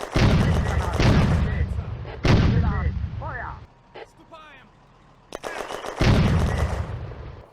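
Panzer 35 tanks laying suppressing fire on a Soviet mortar in the Firefight war game set in June 1941: several heavy booming shots with long rumbling tails, a quieter gap, then more loud blasts.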